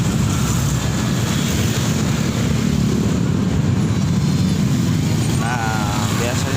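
A motorcycle rides along a road through the Balena area on an evening outing, its engine a steady, loud drone with constant wind and road noise throughout.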